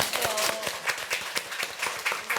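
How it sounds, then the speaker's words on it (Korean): An audience at a Korean national reading-campaign stage event applauds an author's award with a moderate, steady ripple of hand claps. Individual claps stand out near the front, and no one speaks over it. "큰 박수 보내주세요"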